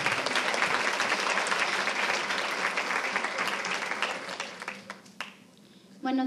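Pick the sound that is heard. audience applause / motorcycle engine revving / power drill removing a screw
audience applause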